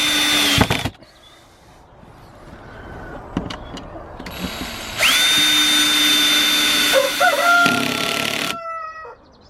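A power drill drives screws into garden crop frames with long whirring bursts that start and stop, close and loud, plus a short high whine midway and sharp taps between runs.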